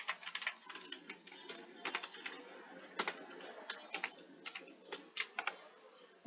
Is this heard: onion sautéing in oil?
no